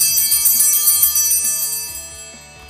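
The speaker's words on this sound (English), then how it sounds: "Ring the bells once when Father lays his hands over the host" Altar bells rung during the Eucharistic prayer at Mass give a bright, shimmering jingle that starts loud and rings out with rapid repeated strikes, then fades as the tones decay.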